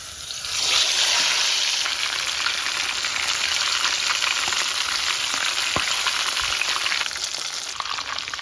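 A whole marinated chicken, prepared for morog musallam, is lowered into hot oil and fries with a loud, continuous bubbling sizzle that swells quickly and holds steady, with occasional soft pops.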